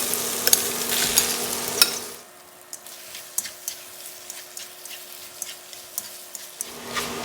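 Shrimp and shrimp roe sizzle while being stir-fried in a pan, a steady fry hiss that is loud at first and then drops to a quieter simmer, with light scraping clicks from stirring.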